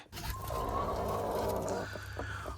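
A hen sitting on a clutch of eggs clucks and croons nearby in a drawn-out, warbling call, followed by a few short clucks.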